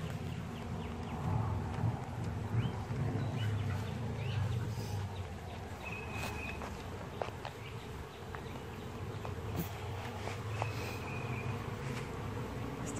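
Honey bees buzz steadily inside an open hive during an inspection, a dense continuous drone close by with occasional individual bees flying past.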